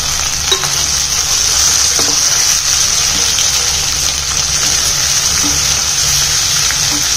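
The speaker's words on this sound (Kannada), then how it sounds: "ಇವಾಗ ಇದೆಲ್ಲ ಚೆನ್ನಾಗಿ ಫ್ರೈ ಆಗಬೇಕು ಎಣ್ಣೆಲಿ" One medium tomato fries in hot oil in a pan for a Kerala-style dry fish curry, making a loud, steady sizzle and hiss that carries on close and unbroken throughout.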